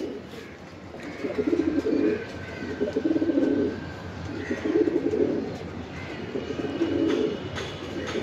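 Giribaz pigeons coo in steady repeated bursts, each deep rolling call following the last about a second apart, fairly close over a constant low hum.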